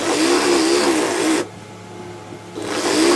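Sewing machine running a side seam on a men's kameez from the sleeve down to the side slit: a steady, close whirring hum that stops for about a second, then starts up again.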